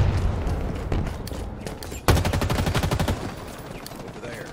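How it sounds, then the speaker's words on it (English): A plasma grenade and gunfire in the video game Halo Infinite: dense rapid automatic fire, a sharp burst at the midpoint, then a steady stream of evenly spaced shots, loud and close. "Plasma grenade."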